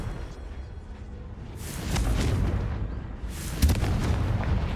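A Confringo blasting spell goes off in a video game, giving loud, roaring explosive bursts that swell at about the middle and again near the end over a constant rumbling background.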